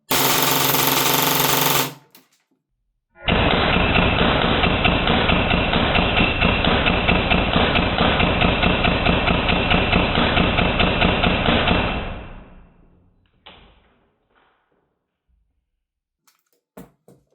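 A short burst, a pause, then a long rapid stream of mechanical shots from an HPA-powered Airtac Glock airsoft pistol with a shot shell adapter on full auto, ending with trailing clicks.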